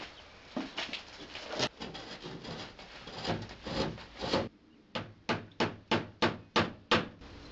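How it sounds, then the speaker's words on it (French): A screwdriver scores aerated concrete, then a wood chisel scrapes out the small squares: close, irregular gritty scraping gives way to a run of about seven quick, evenly spaced strokes. "La réservation est striée avec un tournevis puis les petits carrés sont retirés au ciseau à bois."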